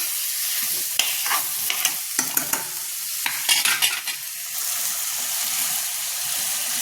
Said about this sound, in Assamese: এতিয়া ধুনীয়াকৈ গোটেইখিনি মিক্স কৰি লৈছোঁ আৰু তেলতে মই নিমখ হালধি চব দি দিছোঁ